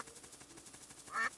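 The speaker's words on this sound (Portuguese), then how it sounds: "Patos? O que estão fazendo aqui? Estão com fome também?" A few cartoonish duck quacks from a Peppa Pig video game, soft at first and then one louder, brighter quack near the end, with no talking.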